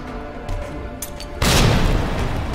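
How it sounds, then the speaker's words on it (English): A flashbang grenade bursts in Resident Evil 2 Remake with a sudden, loud boom that cuts through the quiet game ambience and rings on as a harsh wash until the end. "Flashbang, great."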